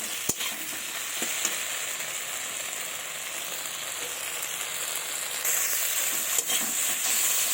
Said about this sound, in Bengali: এবার আমি ভেজে রাখা আলুটা দিয়ে দেবো। এবার ভালোভাবে নাড়াচাড়া করে নেব।